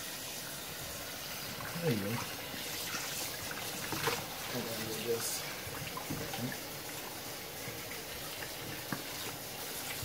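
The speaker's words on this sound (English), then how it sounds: "So run the water." Water runs steadily from a kitchen tap throughout while rinsing sole fish, a constant splashing hiss with speech over it and some handling noises.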